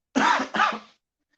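Two quick, harsh coughs in a row, close and loud, followed by silence.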